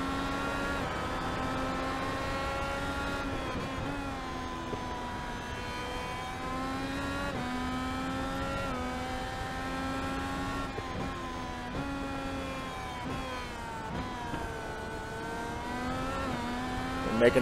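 IndyCar race car engine screams through gear changes in a racing video game at Imola, a loud continuous high-revving whine rising and dropping repeatedly over the lap with no talk.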